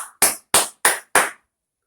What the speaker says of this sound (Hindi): दो हाथ से ताली बजाओ।